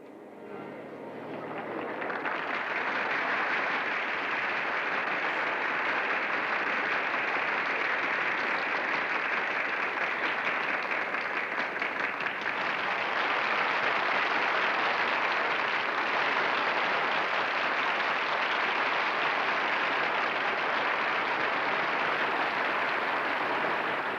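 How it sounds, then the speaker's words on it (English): Staged applause from a large audience in London's Royal Albert Hall for an Alfred Hitchcock film: dense, sustained clapping that swells in within a couple of seconds and then holds steady and loud for over twenty seconds, with no talk. "So the applause that you just saw and heard has been staged by Alfred Hitchcock at the Royal Albert Hall in London"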